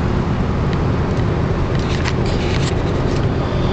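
A car cruises along smooth Saddle Road in Hawaii between Kona and Hilo, with a constant loud rumble of engine and tire noise and steady wind buffeting.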